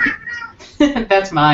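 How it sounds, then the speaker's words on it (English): A house cat meows several times in quick succession, close and fairly loud, with drawn-out tonal cries overlapping a person's speech. "We can hear a cat."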